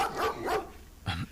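A dog barks three times in quick succession, close and fairly loud, with a short pause before the last bark.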